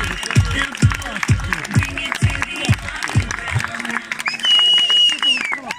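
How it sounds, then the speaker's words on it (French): Crowd applause for stunt rider Sarah Lezito at a motorcycle stunt show, loud rhythmic clapping and cheering with low thumping beats through the first half, then a sustained tonal whine over the continuing crowd noise. "un tonnerre d'applaudissements pour l'artiste Sarah Lesito"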